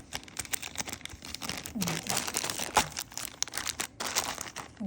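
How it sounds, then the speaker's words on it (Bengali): A plastic zipper storage bag being pressed flat to squeeze out air and then sealed, giving continuous close crinkling and rustling with irregular crunchy bursts throughout. "জিপারে একদম মুখ হলো আটকিয়ে বাতাস যেন ভিতরে না থাকে এভাবে"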